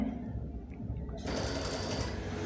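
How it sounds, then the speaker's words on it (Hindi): A sewing machine stitches a trouser leg seam in a tailoring class, starting with a soft whir and then running into a steady, louder rapid hum of needle strokes. "अभी हम आपको फिर सिलाई लगा कर दिखाते हैं"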